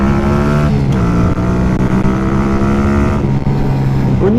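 Masai Greystone 125 café racer roadster, a 10.7-horsepower engine, riding in second gear, loud and close, with the engine pitch climbing and dipping through several short rises.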